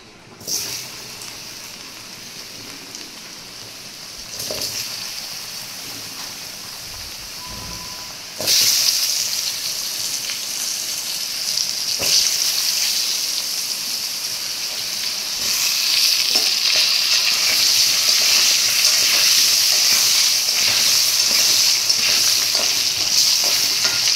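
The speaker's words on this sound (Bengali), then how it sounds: "মানে মাছগুলো ভাজা হয়ে গেছে, আলুগুলো ভাজবো।" Potatoes fry in oil with a continuous sizzling hiss that swells louder partway through, with occasional stirring scrapes and clatters, close and steady with no talk.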